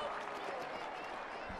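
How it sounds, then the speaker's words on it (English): A crowd at a women's hockey match between New Zealand and the Netherlands applauds in a steady wash of clapping, faint and distant, with a commentator's voice running underneath. "the crowd appreciates the work done by New Zealand"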